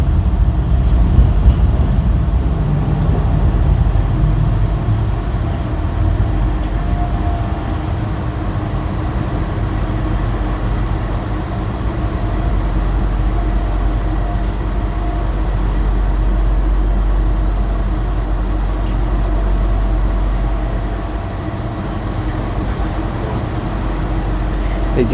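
Interior of a moving tram in Sofia on a hot day: a steady low rumble and rolling drone with faint hum from air conditioning, continuous and fairly loud, with no clear talk.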